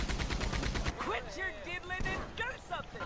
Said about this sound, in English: let me shoot this one guy in the head right here